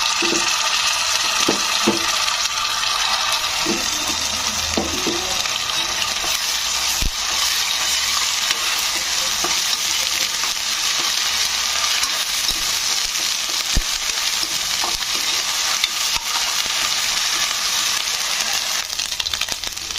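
Browned onions sizzle in a kadai with ginger-garlic paste added, a constant bright hiss of hot oil with occasional spoon scrapes and clinks, close and steady throughout.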